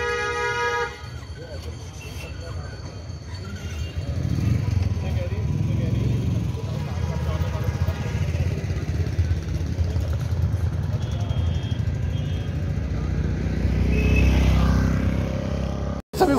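Car maneuvering to park on a busy market street in Tallital, Nainital, with engine rumble, occasional horn toots and a motorbike revving nearby, all under steady crowd noise and talking voices.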